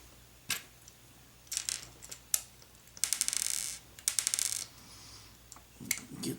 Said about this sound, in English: And then the screws we'll just dump out